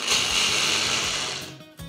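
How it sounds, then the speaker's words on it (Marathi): A kitchen mixer grinder whirs loudly as it grinds a cup of sabudana (sago). The motor runs steadily, briefly cuts out near the end, then starts up again. "हा मिक्सरमध्ये पहिले फिरवून घेऊयात"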